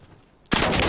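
Video game gunfire erupts abruptly halfway through, a loud dense burst of rapid shots after a quiet lead-in.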